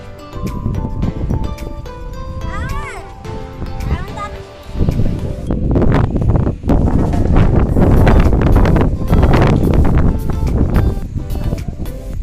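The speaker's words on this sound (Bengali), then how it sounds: "বাতাস আছে।" Strong wind buffets the microphone outdoors on a sunny day while children fly a kite, a constant loud rumble that swells midway, with voices talking underneath.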